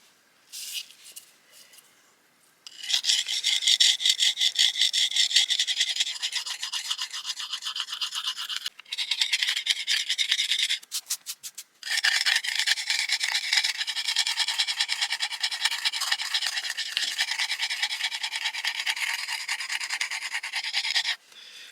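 A slate blade is rubbed against an abrasive surface to grind material off for a survival knife: a steady, hissing scrape runs in long continuous strokes, close and fairly loud, with brief pauses between bursts.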